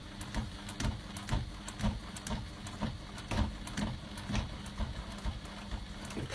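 A domestic sewing machine stitching a flat pocket, running in a steady rapid mechanical chatter with regular pulsing clicks throughout, close and alone with no talking.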